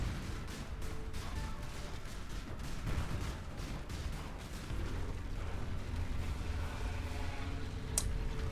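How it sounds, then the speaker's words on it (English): Skill explosions burst in the action role-playing game Path of Exile, a rapid, overlapping series of booms and blasts in a busy, fairly quiet combat mix with one sharper crack near the end. "these are some skills and some explosions that we really have to be careful for"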